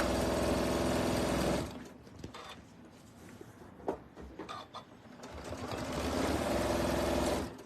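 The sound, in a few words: sewing machine sewing in reverse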